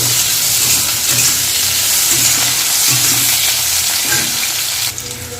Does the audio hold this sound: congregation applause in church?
no